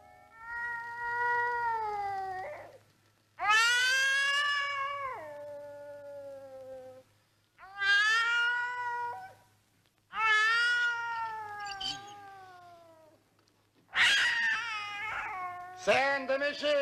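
A cat meows in a scene from the Italian comedy film Ma chi t'ha dato la patente, with five or six long, drawn-out, wailing calls separated by short pauses, loud and close, over a faint steady hum.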